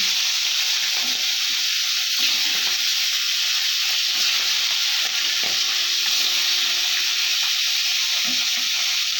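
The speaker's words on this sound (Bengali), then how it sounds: "তেল গরম হয়ে গেছে, মাছের মাথাগুলো ছেড়ে দিলাম।" Fish heads frying in hot oil in a wok, a loud and steady sizzle and hiss that carries on without a break, with faint clinks and stirring now and then underneath.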